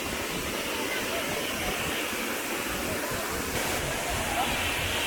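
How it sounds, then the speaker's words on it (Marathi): A loud, steady roar of Savdav waterfall in Konkan, swollen after heavy rain, continuous rushing water filling the whole clip without pause. "आणि जोरदार पावसानंतरचा अप्रतिम असं धबधबा बघतोय"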